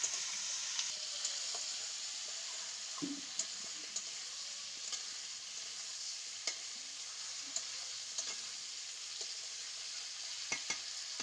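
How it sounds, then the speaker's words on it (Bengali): Cauliflower florets fry in a pan with a steady, quiet sizzle, while a spoon stirring them gives occasional soft scrapes and clicks. "ফুলকপিগুলো দেখুন এত সুন্দর মানে ভাজছি এত কিন্তু ভাঙছে না"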